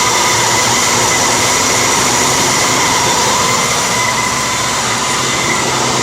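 A 1995 Ford Crown Victoria LX idles smoothly after a cold winter start, giving a loud, close, steady engine drone with constant hum and no pauses.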